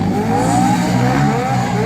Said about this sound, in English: they don't have a rev limiter. That's just valves bouncing.